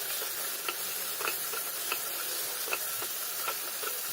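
Tomato frying with turmeric powder and soup cubes for a Goan pulao, a soft steady sizzle with faint regular ticks of stirring, close but quiet, no voices.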